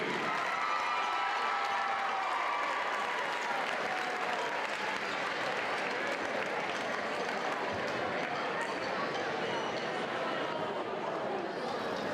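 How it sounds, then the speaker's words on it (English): Crowd in a gym at a boys' basketball district championship applauding the all-tournament team, a sustained dense wash of clapping with some cheering and murmur, steady and loud for the whole stretch. "Let's give a big round of applause to this year's all-tournament team."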